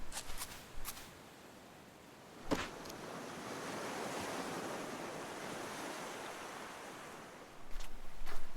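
Beach waves and surf in the game Card Survival: Tropical Island, a broad steady wash of breaking water with a few soft clicks on top, swelling louder near the end, with no voices.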